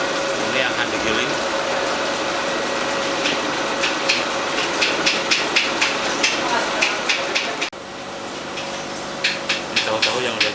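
A soybean-grinding machine runs in a tofu factory with a steady mechanical hum, broken by bursts of rapid sharp knocks, while someone talks over it.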